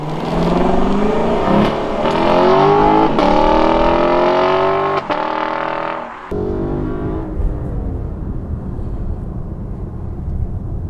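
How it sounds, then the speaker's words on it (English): A 2018 Lexus LC500 V8 engine revs hard on an open road and climbs through several gears with rising roars and brief shift breaks, then eases off into a lower rumble. "That V8 has got a hell of a noise to it."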